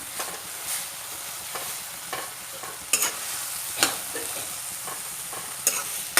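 Cooked rice is stirred and fried with sewali (night jasmine) flowers in a pan, sharp spoon scrapes recurring every second or so over a soft steady sizzle, close by with no talking.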